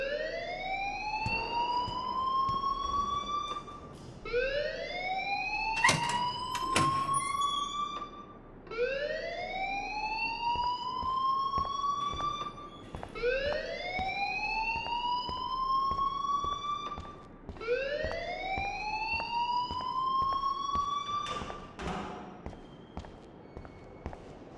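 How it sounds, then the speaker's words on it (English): A fire alarm sounding inside a school in the video game Life is Strange, with a siren tone that sweeps upward and repeats about every four seconds, steady and fairly loud, with faint thuds and clatter underneath. "please turn off that alarm since that's your job"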